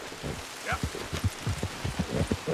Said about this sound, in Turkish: Nasıl bir yağmur başladı ya?